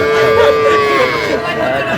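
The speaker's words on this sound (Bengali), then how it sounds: "মোমেন ভাই একটু গরুগুলো দেখান তো ভাই" Sahiwal cattle at a livestock market in Bangladesh give a long, loud, drawn-out moo that holds steady for about two seconds over faint background noise.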